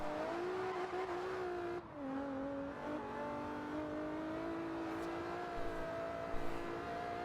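A street car's engine revs hard under full acceleration, with a sustained rising drone, a brief dip as it shifts near two seconds, then a climbing pitch again. The engine is loud and continuous, with no voices.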